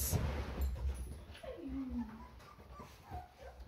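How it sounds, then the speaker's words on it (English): Black and beige puppies whimpering indoors, a thin high whine that rises and slides down, faint and brief against soft background shuffling. "You do hear puppies."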